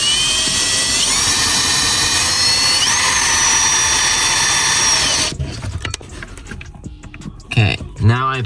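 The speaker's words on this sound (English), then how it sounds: "once we drill out the hole" A power drill whines steadily for about five seconds while drilling a hole in a Volkswagen GTI, then cuts off, followed by scattered handling clatter and a few tool noises.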